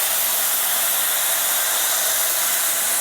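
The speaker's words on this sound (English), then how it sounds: "what a great experience with these pressure washers. It's awesome. It's not loud." Pressure washers spraying during a wash of a Rivian R1T, a steady, close, broadband hiss of water jets that holds evenly throughout without pause or talk.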